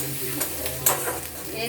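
Chow mein seasoned with salt is stirred in a frying pan, giving a soft continuous sizzle broken by a few brief scraping and clinking strokes of the utensil.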